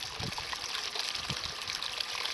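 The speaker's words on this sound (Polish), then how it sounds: "Woda leci." Water runs from a newly dug well driven by a small solar pump, a faint, steady trickling flow heard up close in a quiet outdoor setting.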